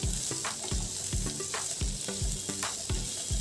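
Roughly chopped medium onions frying in oil, a steady loud sizzle with rhythmic stirring scrapes about every half second, close and continuous with no talking.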